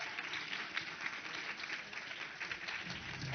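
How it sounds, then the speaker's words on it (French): An audience at a social inclusive business camp applauds the bootcamp participants on stage: steady, dense, fairly distant applause without pause. "je vous demande de les applaudir bien fort"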